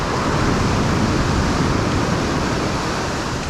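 Ocean waves on a beach during surf fishing, a dense, constant wash of surf with wind, loud and close with no distinct individual breaks and no talking.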